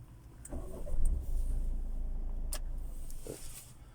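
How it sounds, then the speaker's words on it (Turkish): A Nissan X-Trail's sunroof glass closes by itself after the ignition is switched off: a low electric motor hums steadily for a couple of seconds inside the car, with a few small clicks and knocks. "İlk önce sunroof camımız kapandı."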